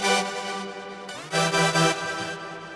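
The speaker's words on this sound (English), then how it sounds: "And then I used this synthesizer sound." Bright, harmonically rich synthesizer patch made in Serum for a future bass drop, playing sustained tones with a pitch glide near the middle and swelling chord stabs, heard alone at moderate level.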